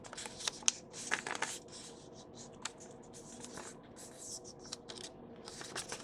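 A printable paper planner folio being folded by hand, with soft close rustling, creasing and sliding of paper in a quiet room, a few sharper crinkles near the start.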